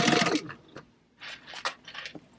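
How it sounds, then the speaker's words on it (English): A sewing machine stitches zippers and lining fabric together at a half-inch seam, running in a brief close burst, pausing, then starting again in short uneven spurts. "now we're going to go to the sewing machine and we're going to stitch these together at that 1/2 inch seam allowance"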